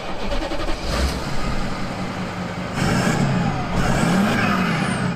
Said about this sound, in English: Let's get the engine started.